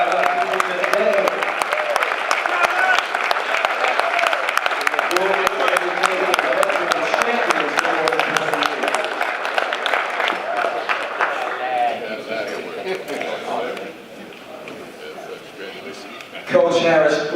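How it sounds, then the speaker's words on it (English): A large audience stands and applauds at a men's event honoring years of service, dense clapping with crowd noise holding steady, easing slightly before a sharp louder burst at the end, with voices mixed in. "let everybody stand up and give them a round of applause"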